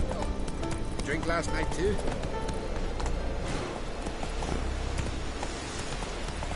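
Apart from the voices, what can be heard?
Geralt's horse Roach trotting, from video game The Witcher 3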